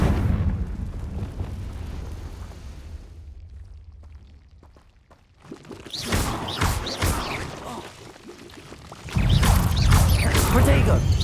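Loud blasts and crackling bursts of a Confringo spell in Hogwarts Legacy, booming impacts after a quieter stretch, ending in a heavy, rumbling explosion, with a voice speaking over the action.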